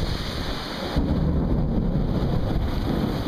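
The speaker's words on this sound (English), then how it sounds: "There's a torrential rainstorm and lightning storm going on here." Torrential rainstorm with thunder and lightning on Pawley's Island, South Carolina, with flooded roads; a dense, steady roar of heavy rain and low rumbling fills the whole stretch, growing fuller midway, with no voices.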